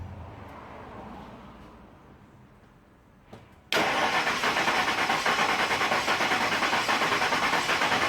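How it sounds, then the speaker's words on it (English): A 2000 Ford F150 engine cranks during a compression test, a faint low rumble giving way to a sudden loud, steady rhythmic churning that continues without pause. "let's crank this bad boy"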